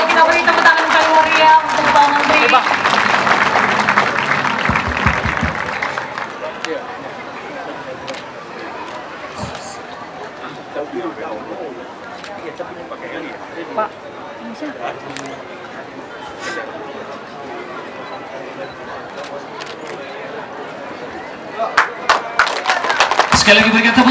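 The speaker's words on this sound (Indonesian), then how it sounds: "Boleh kita beri tepuk tangan kali meriah untuk Pak Menteri." A crowd claps for Minister Sandiaga Uno at the Festival Pesona Aekhula in Nias Barat, a loud burst at first that fades into murmuring chatter, talk and scattered camera clicks.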